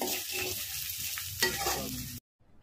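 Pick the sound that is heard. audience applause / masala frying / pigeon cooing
masala frying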